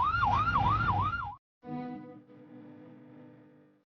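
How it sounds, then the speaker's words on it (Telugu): An ambulance siren wails loudly and close in a rapid rising-and-falling pattern, cuts off abruptly, then a lower steady horn-like tone fades away. "సైరన్ ఆన్ చేసి పోనీరా"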